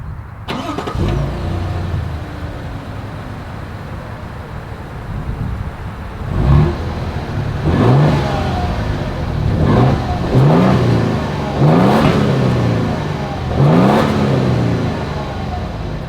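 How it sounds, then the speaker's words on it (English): A 2024 Toyota Tundra Limited pickup truck engine starts, then revs repeatedly through its exhaust, rising and falling in several loud, close bursts with no talking. "As always, here is that exhaust clip."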